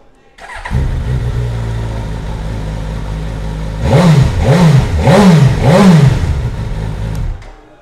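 A 2015 Suzuki GSX-S1000F ABS motorcycle engine, with a GSX-R K5/K6-derived engine, cranks and fires, idles steadily, then revs four times in quick rising bursts before cutting off; loud and close.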